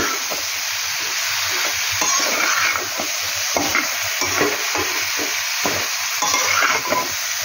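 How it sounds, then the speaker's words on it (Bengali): Ridge gourd and potato pieces being stirred with spices in a hot pan, a steady sizzle of frying with repeated scraping strokes of the spoon, close and continuous, no talking. "এবার ভালো করে মশলার সাথে আলু চিচিঙ্গে নেড়ে মিশিয়ে দেব"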